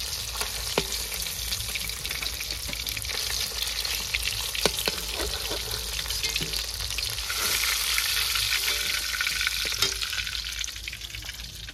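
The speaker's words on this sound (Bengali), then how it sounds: "মাছ ভাজার তেলের মধ্যে আলুগুলো ভেজে নেব।" Potatoes fry in oil left over from frying rohu fish in a home kitchen, giving a steady, close, dense sizzle with crackling spits throughout and no talking.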